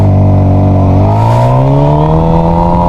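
A motorcycle revving to about 3,000 RPM and then launching, its engine note climbing loud and close into a sustained rising roar as it pulls away.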